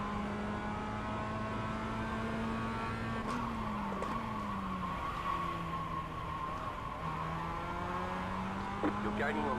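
A Mazda MX5 race car engine in the iRacing simulator drones steadily, its pitch dipping and rising through corners, with faint other cars and brief tire scrubs in the background.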